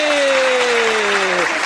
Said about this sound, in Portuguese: Palmas pra ela, gente!